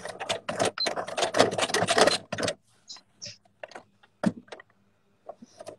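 A sewing machine stitches a leather pouch in a close, rapid run of mechanical clatter lasting about two and a half seconds, followed by scattered quieter clicks and taps.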